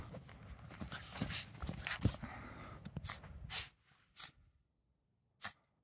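Dog sneezing repeatedly outdoors, a run of sharp snorting bursts and huffs with scuffling movement, followed by a few isolated sneezes after a pause.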